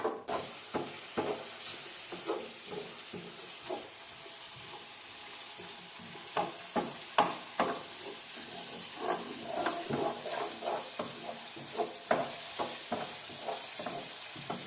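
Soffritto frying and sizzling in a pan for a Genoese-style rabbit stew, with a steady close crackle and frequent wooden-spoon stirring clicks throughout.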